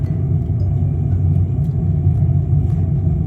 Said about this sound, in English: I do shift slash and then throw the throttles all the way to the maximum